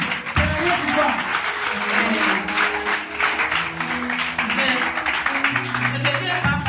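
A church congregation applauds during a testimony service, a dense, continuous patter of clapping over sustained music or singing, with voices mixed in throughout.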